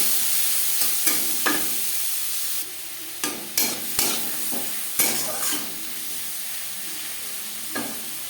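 Shrimp sizzle steadily in hot refined oil with turmeric and salt, broken by several sharp clinks and scrapes of stirring against the pan, with no voices.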